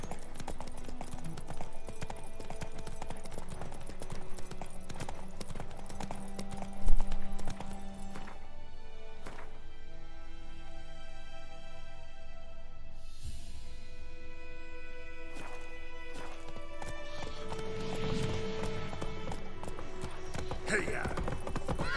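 Steady clip-clop of Roach, Geralt's horse in The Witcher 3, hooves beating in a continuous rhythm under game music and talking voices, with a brief louder thump midway.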